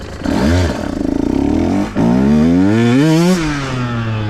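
A 2023 KTM Husqvarna 125 two-stroke motorcycle running a new ECU map revs hard up close, climbing in pitch, dropping briefly, then screaming up again to a high sustained wail before easing off.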